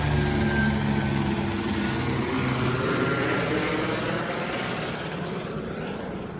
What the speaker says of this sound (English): a helicopter flying over above there. It's a bit loud.